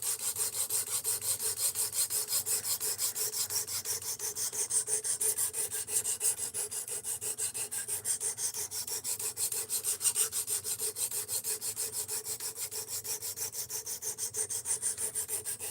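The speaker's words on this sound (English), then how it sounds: "You can sharpen this with this sharpener." An S35VN steel knife blade drawn across a sharpener in a steady, fast rasping rhythm of close, even strokes that continue without pause and without talk.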